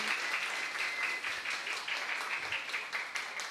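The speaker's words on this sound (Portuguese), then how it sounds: "palmas para essa galera que veio de longe aqui para a gente" An audience at a hotel and resort training event applauds the presenters, a soft, steady patter of many hands clapping that stays even throughout, somewhat distant and fairly quiet, with no talking over it.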